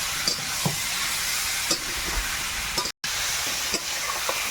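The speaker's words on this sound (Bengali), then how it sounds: "এবার মিশিয়ে আরও একটু নাড়াচাড়া করে দিব" Taro and potato are stirred into a fried spice paste in a hot pan, with a steady sizzle and occasional scraping strokes and one brief dropout partway through.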